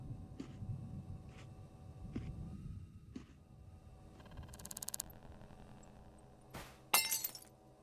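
A plate smashes in the video game Shadows of Doubt, a sharp shattering crash near the end, preceded by quieter game sounds, a low hum and a brief rapid clicking burst.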